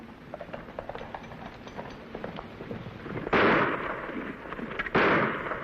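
Gunshots in a western shootout, with two loud, sharp bangs about a second and a half apart standing out over a steady background of old film noise.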